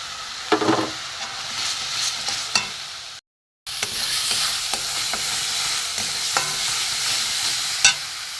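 Turmeric, cumin, coriander and chili powder fry in oil for a coconut-milk prawn curry, a steady close sizzle broken by spoon scrapes and taps, with a short silent gap midway.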